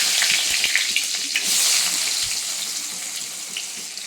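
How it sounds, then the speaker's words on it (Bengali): Chopped onion frying in hot oil seasoned with cumin seeds and bay leaf, a steady loud crackling sizzle with occasional soft stirring knocks, heard alone without talk. "পেঁয়াজটাকে এবার ভালো করে একটু ভেজে নেবো লাল করে"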